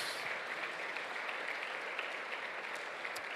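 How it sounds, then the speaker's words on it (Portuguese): A church congregation applauding in praise, a steady, dense wash of many hands clapping together, moderately distant and even in level throughout, with no voices standing out. "Vamos aplaudir ao Senhor"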